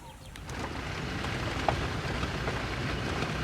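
Steady rain hisses and patters continuously in the Zambian bush, with a low rumble underneath and one brief sharp tick partway through.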